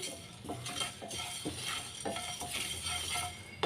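Curry leaves and spices dry-roasting in a pan, a steady soft crackle with scraping stir strokes and light utensil clinks repeating about every half second, close and alone.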